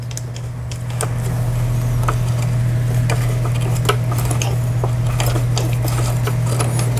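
A Lion Line17 sewing machine under repair, its pulley turned by hand: a steady low motor hum runs throughout, with scattered light metallic ticks and clicks from the mechanism, close and fairly loud, no voices.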